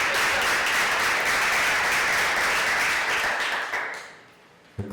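Applause from an audience at a high school poetry awards ceremony for a student reader, a dense even wash of clapping that holds steady, then fades out near the end.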